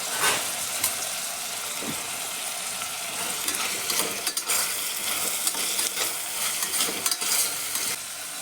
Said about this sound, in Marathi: अर्धा चमचा मोहरी टाकायची. धुतलेले बटाटे टाकायचे.